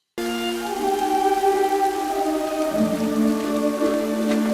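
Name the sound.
rain in film clip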